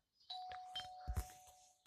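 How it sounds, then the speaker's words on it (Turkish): A two-tone doorbell chime rings once, fairly close, followed by a few soft thumps and faint background noise. "Oğlum zili çal çalıyorum."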